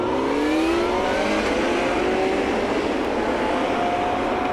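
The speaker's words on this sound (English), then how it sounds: "There's at least a V8 in that bad boy." V8 car engine accelerating hard, a loud continuous roar with rising gear pitch sweeps, close and sustained throughout with no talking.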